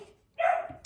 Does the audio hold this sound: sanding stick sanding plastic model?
no